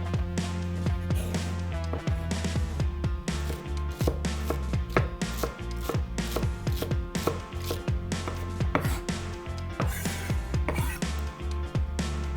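A knife chops celery on a cutting board for a bacon meatloaf, giving a long, fast run of quick, steady knocks close up while soft background sounds play underneath.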